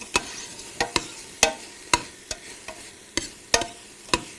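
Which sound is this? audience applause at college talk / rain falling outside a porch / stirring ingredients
stirring ingredients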